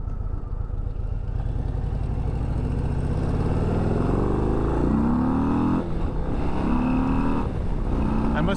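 A Harley-Davidson Low Rider ST, the high-output version, revs up under acceleration, its loud engine note climbing in pitch through several gears, steady and close throughout.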